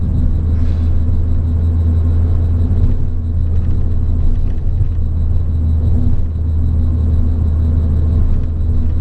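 A road sweeper rumbles past on the road as heard from inside a car, producing a loud, steady low engine drone with a constant mechanical hum.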